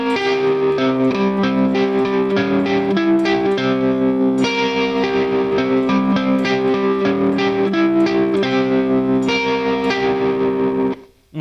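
Electric guitar plays a dissonant, repeating picked riff, busy and continuous with a light distorted tone, loud and up close, ending abruptly after about eleven seconds.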